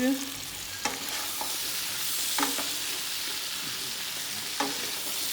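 Chunks of taro (arbi) being stirred and roasted in a pan, with a steady faint sizzle underneath and a few distinct scraping stirs at irregular intervals.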